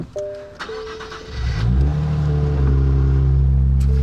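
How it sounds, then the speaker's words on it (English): A Nissan Z engine cranks and fires up from cold with no mufflers, then settles into a loud, deep, raspy idle with a brief rev, very close and unmuffled. "let's get a quick cold start on the Nissan Z without the mufflers"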